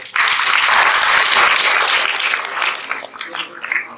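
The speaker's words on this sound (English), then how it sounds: "Clapping for him." A seminar audience gives loud, dense applause for a young boy, holding full for about two seconds before thinning into scattered claps.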